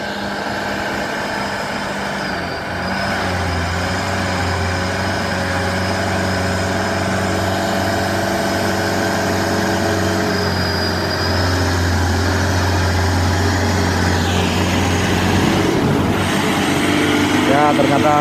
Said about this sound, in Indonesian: ini truk kantor tadi ya teman-teman, yang gagal dan meluncur sampai ke bawah, dicoba lagi menanjak